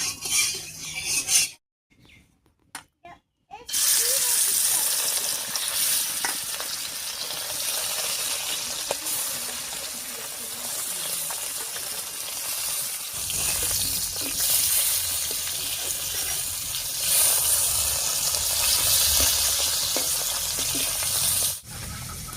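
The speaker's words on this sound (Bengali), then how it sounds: "এদিকে তেলটাও গরম হয়ে গেছে, এবার মাছগুলো দিয়ে দিচ্ছি।" River fish rubbed with salt and turmeric fry in hot oil with a steady broadband sizzle, preceded by a brief silent gap and a few clinks, then continuing evenly close up.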